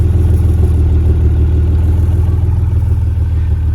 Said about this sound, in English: let's take a listen to the exhaust pipes